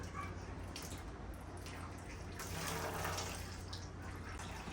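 Engine coolant drips and trickles slowly from the loosened radiator of a 2007 Kia Spectra during a radiator replacement, a faint steady watery patter with soft splashes and no speech.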